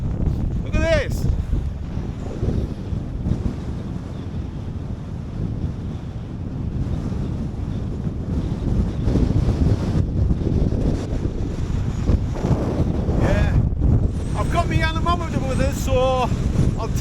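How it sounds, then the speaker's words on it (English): Strong gusting wind buffets the microphone at a wild camp in the Lake District, a loud continuous low roar throughout, with a voice speaking briefly over it near the start and end. "the wind's getting a bit wild"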